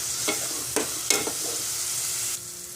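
Ginger garlic paste sautés in a pan for a bachelor-style home-cooked dish, giving a steady close hiss of frying broken by a few sharp scraping stirs of a spoon against the pan.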